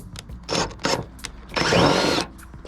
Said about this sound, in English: we're gonna get the rest of these drilled up